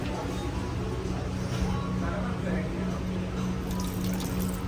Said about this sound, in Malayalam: കൈയിൻ്റെ ഉള്ളിൽ നിന്നാണ് വെള്ളം വരുന്നത്